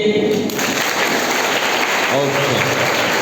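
An audience of students at an anti-drug motivational class applauds in a brief, dense burst of clapping, with a speaker's voice briefly over it.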